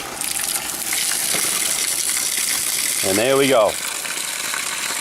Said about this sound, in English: So now I'm going to open up my valve from the top.